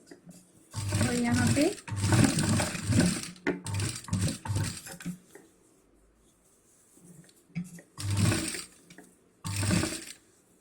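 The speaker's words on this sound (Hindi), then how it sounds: "इसके ऊपर इसी तरह से हमें स्टिचिंग कर लेना है" A sewing machine stitches fabric over zips while making a large travel bag, running in several bursts of rapid mechanical whirring separated by short pauses, close and fairly loud.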